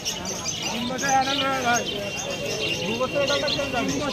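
Pure Beldanga Giribaz pigeons cooing at a crowded market, low repeated coos mixed with chirps beneath ongoing talk and general hubbub.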